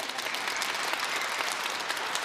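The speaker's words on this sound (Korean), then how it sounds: "이럴 때 박수 좀 쳐줘야 되는데" Audience applause at a Korean Advent lecture, a steady wash of many hands clapping at moderate volume throughout, slightly distant, with no talking over it.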